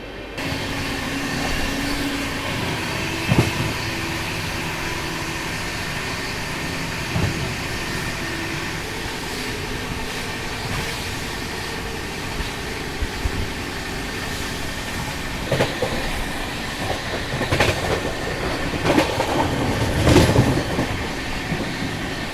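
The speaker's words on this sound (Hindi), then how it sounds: "हमारी ट्रेन स्किप कर रही है बंगारपेट जंक्शन रेलवे स्टेशन को थोड़ी स्लो रफ्तार में" Heard from aboard a Shatabdi Express in an Anubhuti coach as it rolls slowly through Bangarpet Junction: a steady rumble with irregular clickety-clack of wheels over points and joints, louder bursts near the end.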